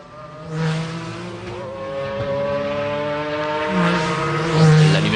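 A McLaren race car at the 1996 Le Mans 24 Hours runs wide, its engine droning loud and near with rising revs and a brief tire squeal, heard alone.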